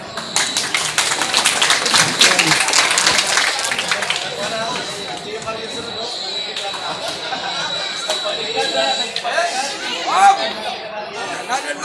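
An audience claps at a Batang Pinoy 2019 arnis competition, with quick, dense clapping for the first few seconds that thins out, mixed with crowd chatter and voices talking throughout.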